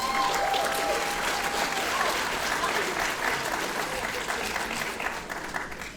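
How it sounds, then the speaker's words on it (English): A large audience at a 2023 graduation ceremony gives loud, sustained applause for math and science award winners; the clapping stays dense and even, then tapers off at the end. "Another round of applause."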